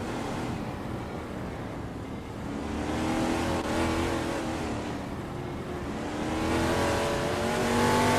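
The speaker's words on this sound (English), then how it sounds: "The mix of Ford Torinos and Chargers is maintaining tight competition." Video game race cars, a mix of Ford Torinos and Chargers, roar and rev continuously in a tight pack, engines swelling and fading as they jostle, loud and close with no voices.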